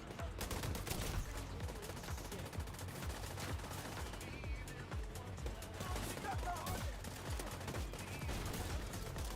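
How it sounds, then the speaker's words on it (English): Rapid automatic gunfire from The Division 2 rattles continuously in dense bursts, loud and close, blending with other weapon fire throughout. "Stop shooting my target, guys."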